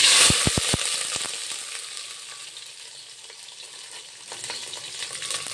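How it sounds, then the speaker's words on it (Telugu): Onions and green chillies frying in a pan, a steady close sizzle that opens with a few quick knocks of a utensil against the pan, then settles into softer crackling frying with light stirring. "ఆనియన్స్, పచ్చిమిర్చి వేసాను. కొంచెం వాటిని ఫ్రై చేయనిద్దాం ఫస్ట్."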